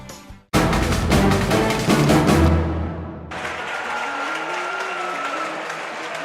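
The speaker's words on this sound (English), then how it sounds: "Both crowds getting amped up." Pre-game crowd at a high school boys basketball game between Cincinnati Wyoming and Maysville in a Wittenberg University gym, cheering and applauding loudly and steadily, then settling into a sustained roar of crowd noise.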